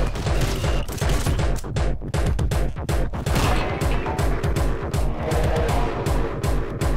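Explosions and rapid blasts from the first-person shooter Anger Foot in a sewer city level, a dense, loud barrage of bursts and crashes running steadily throughout.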